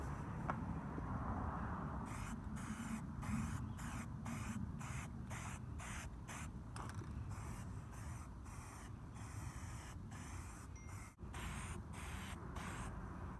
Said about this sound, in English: now I'm gonna spray them